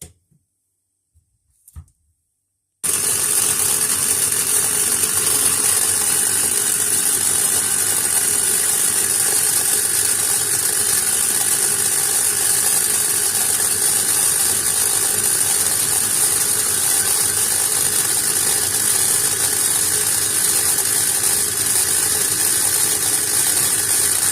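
An electric chopper machine running on egusi ingredients starts abruptly after a few quiet seconds, then roars with a loud, steady whirring hiss that continues unbroken for over twenty seconds with no voices.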